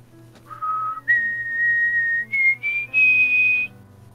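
A person whistles a slow melody of sustained, steady notes, clear and close, stepping up in pitch across several held tones over a faint low hum, with no talking.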